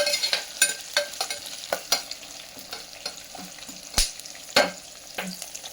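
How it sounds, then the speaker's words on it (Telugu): Spices, dried red chillies and asafoetida temper in hot oil in a pot, giving off a close, busy crackle of irregular pops and sizzles broken by sharp spoon-scraping stirs, with no talking. "పోపు వేగింది అంటే చిటపట్లు ఆడుతున్నాయి కదండి మిర్చి కూడా"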